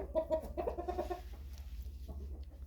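Several backyard chickens cluck in quick, close bursts at the start, then fall to softer scattered clucks over a low steady hum.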